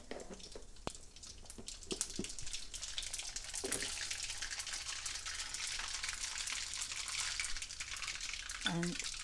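Mustard seeds fry in hot oil in a kadai on a burner, a soft sizzle with faint crackling pops and a few clinks of a spoon, fairly quiet and close.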